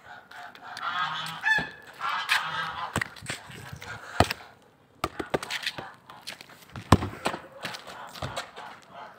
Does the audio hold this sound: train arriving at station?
no